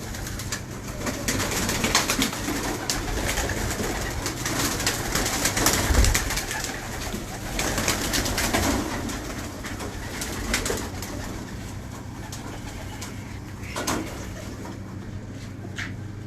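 Pigeons cooing softly amid rustling and fluttering, with occasional knocks and scrapes; a busy, close-up coop ambience of pigeon-keeping with no voices.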